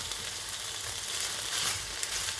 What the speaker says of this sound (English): I love the sear that's going on here